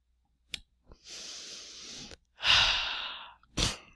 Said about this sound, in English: excuse me for sniffling, I couldn't get to the mute button on time